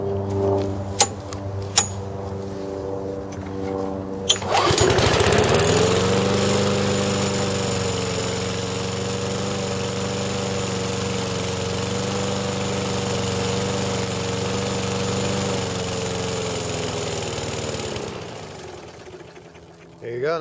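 A 3.5 HP small gas engine, nearly out of fuel, is yanked through a few pulls and then fires up cold, running steadily and loudly for about thirteen seconds before sputtering out and dying.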